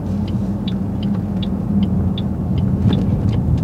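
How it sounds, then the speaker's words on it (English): A supercharged 2008 Ford Mustang Shelby GT500 engine rumbles steadily at close range, with a faint rhythmic high-pitched whine pulsing over the low drone. "I hear the supercharger."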